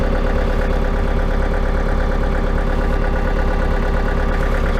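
A tractor engine runs loud and close with a steady, rough, pulsing drone as the machine is put into second gear and starts to drive.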